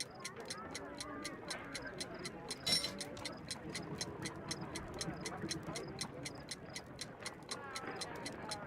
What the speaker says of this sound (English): A fancy ticking homemade gift from a secret admirer.